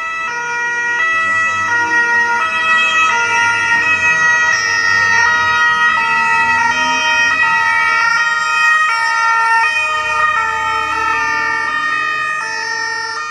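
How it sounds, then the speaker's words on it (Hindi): Emergency vehicle sirens and hooters wail continuously, with several overlapping siren tones rising and falling at steady loud level, motor traffic rumbling faintly underneath. "हाणे उन जी जाइ ते साइरन ऐं हूटर वॼाईंदड़ गाॾियूं अची वियूं आहिनि"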